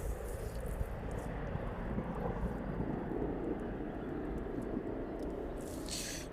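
A plane departing East Midlands Airport in the evening, a steady, broad jet-engine roar from a distance that holds constant throughout, with no talking.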